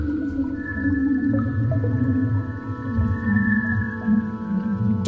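Eerie space recording attributed to the black hole SS433: sustained droning tones with shifting, whale-like sweeping pitches over a steady low rumble, continuous and fairly loud throughout, no voices.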